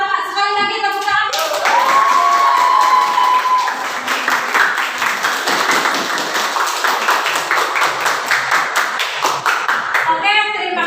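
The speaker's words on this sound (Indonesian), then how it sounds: "Sekali lagi tepuk tangan." A classroom group claps together for students who presented their discussion results, a dense run of rapid hand claps lasting several seconds. A teacher's voice is heard speaking at the start and again at the close.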